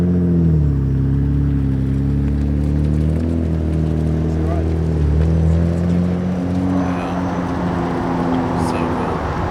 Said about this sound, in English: it sounds like a 32 GTR